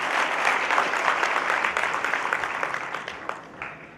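Seminar audience clapping together, a full steady round of applause that gradually thins into scattered claps near the end.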